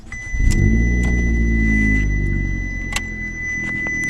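A 2018 compact performance car engine cranks and catches, settling into a loud, steady low rumble that holds throughout with a brief dip near the end, close to the listener.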